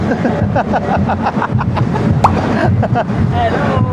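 Steady wind noise rumbles across the microphone while people talk throughout, with traffic-like background hum, at a Pride March along Commonwealth Avenue in the Philippines.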